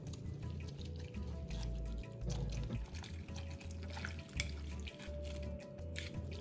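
Water runs and splashes over salted cabbage as it is rinsed for coleslaw, a tap-like stream with drips and sloshing, close and moderately loud, with no one talking.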